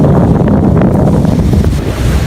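Rough surf rolls onto Twin B Beach on a small island in northern Cebu, a steady loud wash of waves mixed with gusting wind buffeting the microphone, with no voices.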